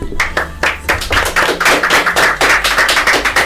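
Loud, close hand clapping in a steady, fairly regular rhythm, a small group applauding with crisp claps filling the whole stretch.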